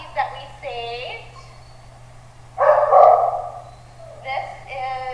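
Small dogs in a rescue kennel give several bursts of yapping and whining barks, loud and close, with the longest and loudest burst in the middle and a steady low hum underneath.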